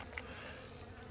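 Honeybees buzz faintly around a feeding spot, a soft continuous drone with one brief closer pass near the start and no talking.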